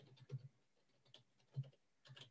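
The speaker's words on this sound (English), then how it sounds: "Now when I start typing" Soft, close typing on a computer keyboard, a few quiet keystrokes tapped in small irregular bursts with short pauses between them, faint and clicky with no talk over it.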